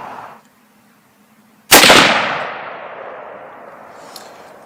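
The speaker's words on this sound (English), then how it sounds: "Now let's shoot a couple more." A single loud Weatherby Vanguard rifle shot at an outdoor range, a sharp blast at close range followed by a long decaying echo and rumble, with no talk.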